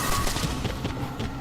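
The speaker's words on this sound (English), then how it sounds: "look at the thumping sound" Dense, continuous thumping and booming from the video game Legacy of Kain: Defiance, a loud rapid barrage of overlapping impacts like gunfire, sustained throughout without pause.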